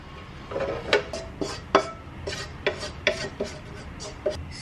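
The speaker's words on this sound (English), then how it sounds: "So, ililipat ko na siya dito sa ating slow cooker." Lamb curry made with onion and Rogan Josh paste is scraped from a pan into a slow cooker, with a series of short, close utensil scrapes and knocks spaced irregularly over a quiet background.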